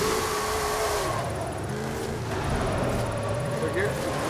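A 1800hp Ford F450 dually truck in a Forza Horizon 5 drifting lobby, its engine droning and revving loudly and steadily with shifting pitch, while a person talks over it.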